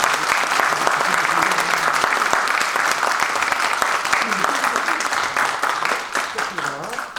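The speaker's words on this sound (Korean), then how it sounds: "여러분 박수가 필요합니다" An audience at a ceremony where books are formally presented breaks into loud, continuous applause, with dense rapid clapping throughout and voices rising over it near the end.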